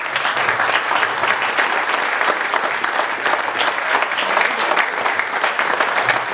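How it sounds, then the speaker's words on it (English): Continuous applause from an audience at an end-of-season sports awards night, a dense, even wash of many hands clapping at steady volume throughout. "Just keep that applause going"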